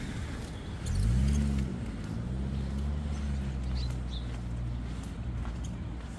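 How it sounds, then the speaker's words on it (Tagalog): A bus arrives at a street stop, its low engine rumble swelling and shifting pitch as it draws near, then idling steadily under background traffic noise. "Nako, ayun na yata yung bus"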